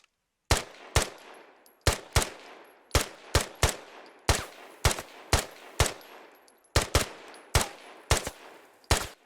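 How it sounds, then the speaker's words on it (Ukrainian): A SAR-109T rifle with a collimator sight in the video game Squad fires in short, sharp bursts of two or three shots, repeated steadily, loud and close, with no talking. "у нього це є SAR-109T з коліматорним прицелом. Давайте подивимось, як воно все ж таки стріляє."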